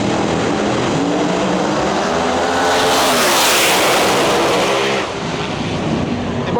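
Pro Mod drag racing cars blast through qualifying passes at the Snowbird Outlaw Nationals, a loud, continuous high-revving roar that swells to a peak mid-run before dropping off abruptly, with no talk.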